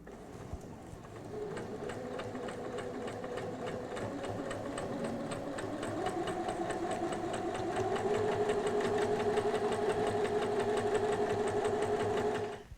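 Sewing machine straight-stitching on the spot on a summer tote bag, a steady close mechanical whir that holds for the full length and rises slightly in pitch midway.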